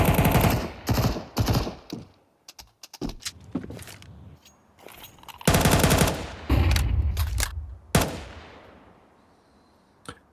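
Pistol gunfire from a Counter-Strike match on the Vertigo map, with rapid, loud shots in spammed bursts, sharp single cracks and mechanical clicks in between, ending in a fading tail.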